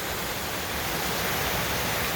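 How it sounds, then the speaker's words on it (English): A small waterfall pours across a creek trail in the Oregon Coast Range in winter, a steady, dense, close rush of falling water that fills the sound with no pauses. "there's a cool little waterfall there"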